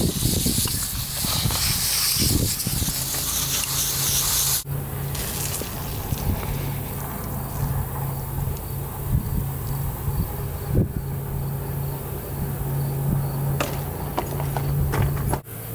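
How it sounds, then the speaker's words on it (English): Garden hose spraying water onto car coilovers, a continuous broad hiss close by with scattered clanks and taps, loud throughout with brief interruptions. "we're going to hose them off"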